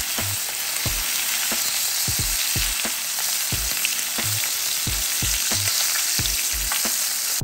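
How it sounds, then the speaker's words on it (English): A steak frying in a pan with butter added for basting gives a steady, loud sizzle, punctuated by repeated low thumps and clatters as the pan is handled or the meat is spooned over, with no talking. "you want to add some butter to properly baste the steak and get an even better crust"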